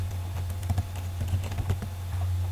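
Keys clatter on a computer keyboard while writing HTML code, a burst of quick irregular clicks in close, quiet room tone over a steady low electrical hum.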